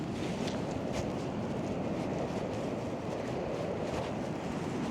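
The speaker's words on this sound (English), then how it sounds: "We're right on the beach, as you can hear and see" Sea waves wash against an Irish beach under steady wind, a constant broadband roar of surf and gusting air close to the microphone, with no voices.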